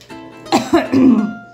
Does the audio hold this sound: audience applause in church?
no